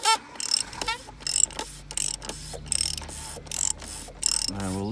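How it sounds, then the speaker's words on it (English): Ratchet socket wrench on a small extension clicking in repeated bursts as it loosens the oil filter housing on a BMW 530d F11 diesel engine, close and fairly loud with brief pauses between strokes. "socket that you'll need to get that off, which we have here on a little extension. So let's loosen this up now."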